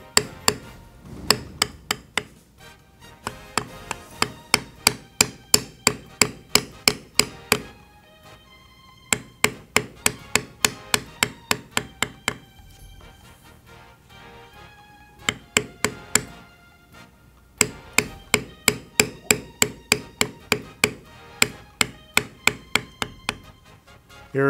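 A sharp beveler tool is tapped into leather with a mallet while carving a Western floral design, heard as close, quick, even runs of light knocks separated by short pauses.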